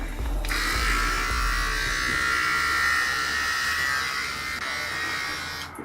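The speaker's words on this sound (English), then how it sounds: "when I shave my head, but now I'm using nothing, so this will be a close shave" Electric hair clippers with no guard buzz continuously and close up while shaving a head, a steady high-pitched hum that shifts slightly as they move over the scalp.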